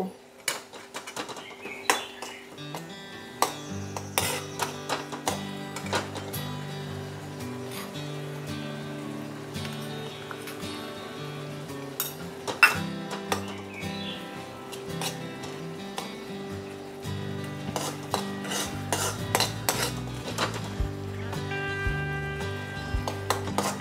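Chickpea curry (chole masala) being sautéed and stirred in a pan, with steady sizzling and frequent clinks and scrapes of a spoon against the metal pan, close and moderately loud throughout, no talking.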